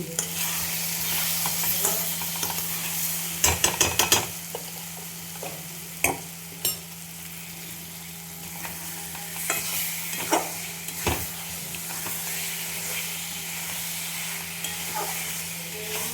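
Chicken pieces sizzle in hot ghee in a pan while being stirred, a steady close frying hiss with a low hum beneath and sharp scraping clatters of the spoon against the pan, no voices.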